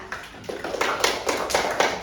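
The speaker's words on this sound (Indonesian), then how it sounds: "Tepuk tangan buat Susan." A third-grade primary school class claps for a classmate, giving a short burst of scattered, overlapping applause in a small room. The clapping swells over about two seconds, with no talk heard over it.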